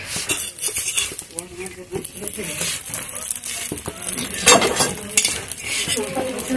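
A potato-filled rolled pancake, patishapta style, fries in a pan with a steady close sizzle, broken by frequent utensil scrapes and clinks against the pan.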